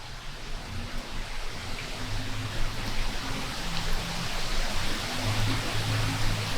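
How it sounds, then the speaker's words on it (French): Heavy rain pouring during a thunderstorm, a dense steady wash of broadband hiss at a moderate distance, with faint low rumbling beneath and no voices. "Il y a le tonnerre et ça pleut à un point que vous imaginez pas."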